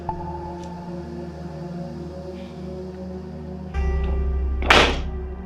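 A sharp, heavy thud rings out as something is set down hard, with a low hum running underneath and a loud broadband burst just after.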